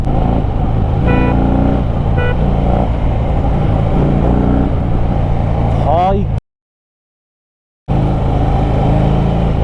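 A Harley-Davidson Fat Bob 1800cc motorcycle riding through dense forest near Rishikesh, its engine rumbling loudly and continuously with wind noise, someone speaking briefly over it, and a sudden gap of silence before the engine sound resumes.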